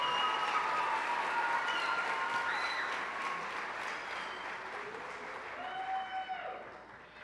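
Steady audience applause fills a staff service-award celebration evening, a dense wash of clapping that holds at a constant level throughout and tapers slightly near the end.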